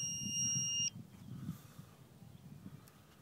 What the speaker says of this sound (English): and then it'll turn red when it's low, and it will beep noisily.